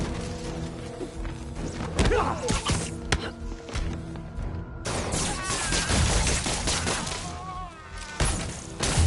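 Video game gunfire on PS4 in dense, overlapping bursts, with rapid automatic fire, thuds and impacts filling the mix, loud and close, while combat voices call out over it.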